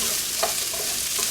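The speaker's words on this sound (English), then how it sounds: "So we're just going to mix this all up and let this cook for another 5 to 10 minutes." A breakfast skillet of potatoes, bacon, sausage, onions and shallots fries with a steady soft sizzle as a utensil stirs it in a few light scrapes, nearby and without speech.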